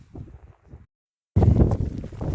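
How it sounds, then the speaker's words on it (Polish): Gusty wind buffets the microphone in low rumbling bursts, cutting out briefly before a louder, rougher gust returns. "Najgorszy ten wiatr."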